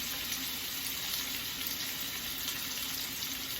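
A faucet runs continuously while potatoes are rinsed and strained in a kitchen, giving a soft, steady hiss of flowing water with no talk.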